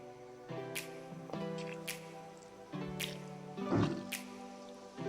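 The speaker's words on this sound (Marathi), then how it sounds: "आता आपल्याला हे राहिलेलं पाणी घालायचं आहे" Water added to a bread-free sandwich batter, heard as a few soft wet squishes and drips at intervals, quiet and close, with a faint hum underneath.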